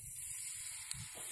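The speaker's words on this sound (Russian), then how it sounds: "Зашипел." Chopped onion dropped into hot oil in a kazan over a campfire gives a brief, steady hiss, quiet and close, with no voices.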